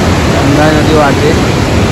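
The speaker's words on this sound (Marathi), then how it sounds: "ही मागे गंगा नदी वाहते." The Ganga flowing past Uttarkashi on the way to Gangotri gives a steady, full-bodied rush of water. Faint voices sit underneath the continuous roar.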